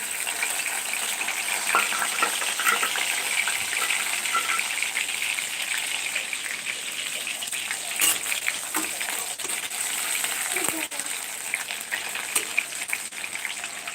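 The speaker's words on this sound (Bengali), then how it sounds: "এখন আমি দেবো রসুন" Garlic sizzles and fries in hot oil, a steady broadband crackle that holds throughout with occasional clinks and stirring sounds and no talk over it.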